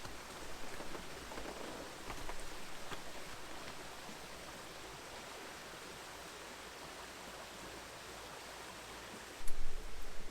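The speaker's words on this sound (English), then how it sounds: "The stream there is kind of small" A small stream flowing in the Romanian countryside gives a soft, steady broadband rush and trickle, faint and continuous, with a slightly louder splash of water near the end and no voices.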